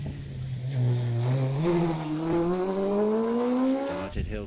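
A single-seater race car climbs the hill at Wiscombe Park hillclimb, its engine note rising steadily through the gears as it accelerates away, heard at a moderate distance with a commentator talking over it.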